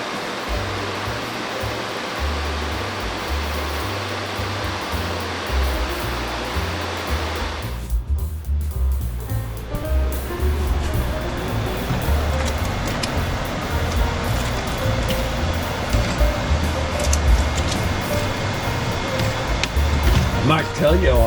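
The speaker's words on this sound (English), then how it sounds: "You can probably hear the fans going on." Electric fans blow air out a kitchen window while green tomatoes are pickled, giving a steady, loud whooshing hum that runs throughout under a voice speaking.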